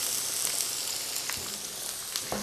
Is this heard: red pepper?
yes